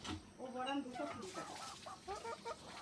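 A village-raised country hen clucks in a run of short, soft, close calls that come in quick bursts, faint and intermittent across a few seconds.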